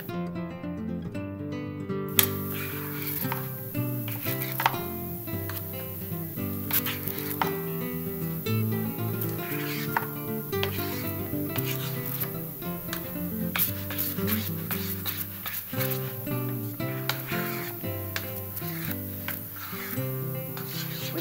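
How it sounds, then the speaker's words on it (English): Peanut butter, marshmallow cream and chocolate mixture being stirred in a bowl, a soft scraping and squishing texture running steadily under a continuous background music bed, with no talking. "Now we're going to mix that all up"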